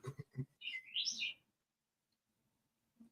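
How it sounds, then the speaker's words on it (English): A bird outside a window gives a quick warbling chirp, fairly faint and distant, right after a few clipped bits of speech, then near silence follows. "You hear the bird, don't you?"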